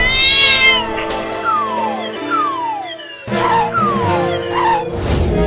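A cat meows repeatedly in long, loud, drawn-out wails with falling pitch, close by, several calls in a row with a brief pause midway.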